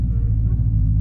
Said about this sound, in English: Meg's gonna do another flat start, and then she's going to go